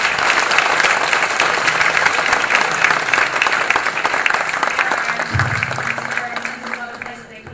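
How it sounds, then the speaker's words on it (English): An audience at an Alpha Phi Alpha MLK forum in Orlando gives its panelists a round of applause, steady crowd clapping that holds throughout and tapers slightly at the end, with voices talking over it. "let's give our panelists a round of applause"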